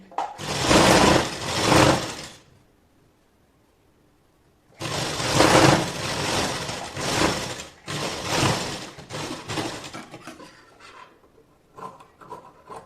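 Sewing machine stitching a strip onto a blouse piece, running in three bursts of steady whirring with quiet pauses between, close and loud, no talking.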